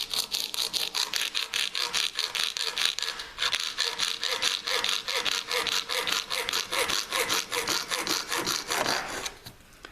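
Coping saw cutting through a piece of acrylic clamped low in a bench vise: steady, close rasping strokes in a fast regular rhythm, continuing unbroken before easing off at the very end, with no talk.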